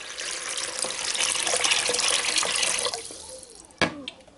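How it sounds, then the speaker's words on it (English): A litre of water is poured into a blender, a steady splashing gush that fills the first three seconds, then tapers off, followed by a sharp knock near the end. "so in goes the water. 1 litre."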